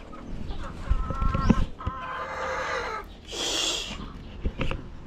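Rhode Island chickens, about six to seven months old, cluck in a farmyard with soft intermittent calls and rustling, a brief low crow-like burst partway through, fairly close and without talk.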